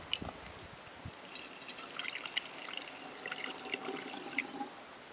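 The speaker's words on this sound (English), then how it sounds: "I'm going to put exactly 8 ounces of Coleman fuel into this bottle" Coleman fuel poured from a container into a fuel bottle for an MSR Whisperlite stove, a soft thin trickle and gurgle of liquid running steadily, close and quiet.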